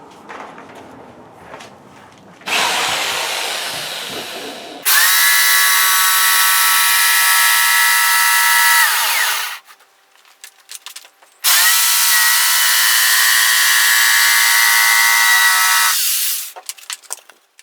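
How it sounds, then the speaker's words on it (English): A jigsaw fitted with a fine blade cuts foil-faced PIR insulation board for a Mercedes Sprinter van floor. After brief handling noise, two long, loud, steady motor runs with a short pause between them. "you're going to need to use a jigsaw and a very fine blade"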